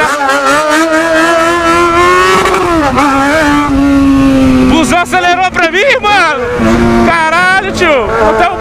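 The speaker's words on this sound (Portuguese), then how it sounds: "O busão quer acelerar." A bus engine accelerates in city traffic, a loud droning rev that rises and falls through several gear-like sweeps, with voices talking over it.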